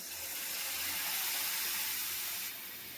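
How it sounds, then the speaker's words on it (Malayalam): Vinegar poured into a hot pan of mango pickle sets off a loud, steady hiss of sizzling that runs unbroken and fades slightly toward the end. "ഇനി വിനാഗിരി ചേർക്കാൻ പോവുകയാണ് കേട്ടോ"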